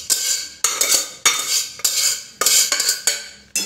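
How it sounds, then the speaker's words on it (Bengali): A spoon scrapes and clinks against a pot while veg dal is stirred in with fish that has been fried down first, several sharp metallic strokes in an uneven rhythm, close and fairly loud, with no voices. "মাছটা ভালো করে কষিয়ে নিয়ে ডালটা এবার মধ্যে দিয়ে দিলাম।"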